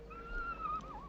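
A horse, a mare, gives a single brief whinny with a wavering pitched tone, moderately close over a low steady background hum.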